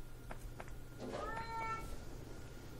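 A house cat meows faintly indoors, with a couple of soft calls followed by one longer, drawn-out meow over low background hum.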